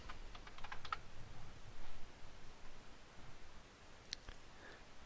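Scattered keyboard key clicks, a few quick taps early on and another short burst near the end, faint against a soft background hiss.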